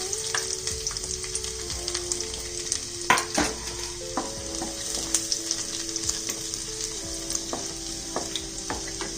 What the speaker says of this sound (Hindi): ਤੇਲ ਗਰਮ ਹੋ ਗਿਆ ਲਸਣ ਪਾਵਾਂਗੇ ਅੰਦਰ 4-5 ਟੰਗੀਆਂ ਲਸਣ ਕੱਟਿਆ ਹੋਇਆ